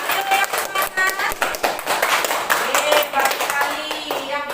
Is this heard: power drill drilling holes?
no